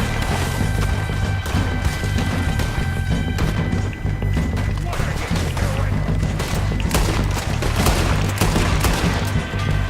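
Gunfire in Red Dead Redemption 2 during a game-hunting session, with sharp, loud shots and impacts cracking repeatedly over a dense, continuous game soundscape.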